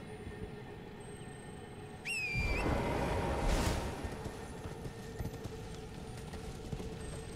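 Horse summoned and galloping in Elden Ring, a brief burst of hoofbeats and rushing movement with a rising whinny-like call, loud for about two seconds before fading into steady background game ambience.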